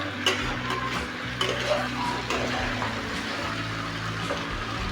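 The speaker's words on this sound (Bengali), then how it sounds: "খুব ভালোভাবে কষিয়ে নেব আলু আর চিকেনটি।" Potato pieces and chicken stir-fried in a pan for chicken masala, with a steady close sizzle and repeated scrapes and clinks of stirring throughout.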